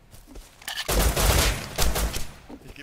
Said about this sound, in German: Nee, schießen noch von oben.